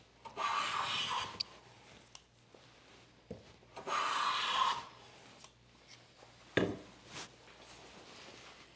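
A hand plane shaves a wooden board while splines are cut for faux dovetails, giving two long, close rasping strokes with a few light knocks and taps in between.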